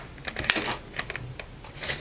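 A plastic blister card package for a Marvel Universe Colossus action figure being torn open by hand, with quick close crinkles, snaps and rips in a short irregular burst.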